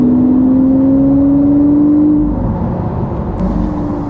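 A Lamborghini Aventador S V12 engine drones loudly and steadily, a sustained tonal whine that eases slightly partway through, heard close with no voices.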